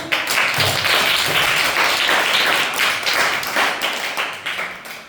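A group claps in applause for a correct answer during a classroom question-and-answer session, a dense, loud burst of hand claps lasting several seconds and slowly fading at the end.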